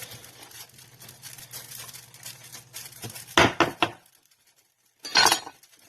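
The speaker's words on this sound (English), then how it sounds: "chop everything up in the pot" A dull knife chops ginger and lemon inside a metal pot in a country kitchen, a quick run of sharp clinking knocks followed by a pause and another short cluster, close and clear with no talk.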